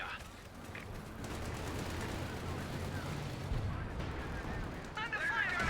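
Artillery barrage in Company of Heroes 2 during a 4v4 battle: a dense, continuous rumble of distant shelling and gunfire that stays steady throughout, with faint voices underneath.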